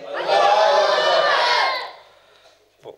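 At a religious prize-giving gathering, a large crowd roars back in unison to a takbir call, a loud sustained chorus of voices for over a second that fades into quiet, followed by a brief faint sound.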